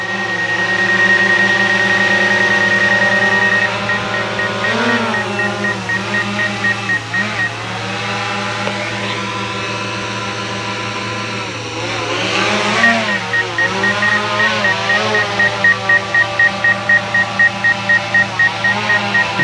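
A DJI Mavic 2 Advanced drone takes off and flies, its rotors giving a loud, steady, buzzing whine that swells and dips in pitch as it climbs and manoeuvres, with a few faint electronic beeps early on.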